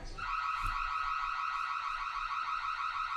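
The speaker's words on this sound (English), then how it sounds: "Girl, turn off the alarm." A car alarm from a Mr. Robot episode wails continuously, a loud, close, rapidly warbling electronic tone cycling at a steady fast rhythm with no pauses and no talking over it.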